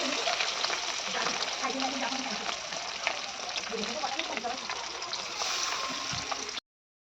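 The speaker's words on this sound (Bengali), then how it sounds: "এখন এবার মাছটা ভাজা করবো" Fish rubbed with salt and turmeric fries in hot oil in a pan, giving a steady, dense sizzle and crackle that carries without a break and sounds close by. A voice talks over it.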